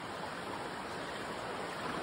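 Water flowing beneath boulders in Lost Cove (Buggytop) Cave in South Cumberland State Park, a steady, faint, even rushing wash with no voices.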